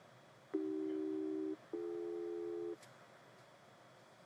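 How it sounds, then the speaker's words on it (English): Continuous audio test tone from an AVX-10K transmitter tested with a Garmin G1000 flight deck: two clean, steady tone bursts of about one second each separated by a short gap, fairly faint over low background hiss. "you should be able to hear the audio tone by the speaker or headphones if you have it installed."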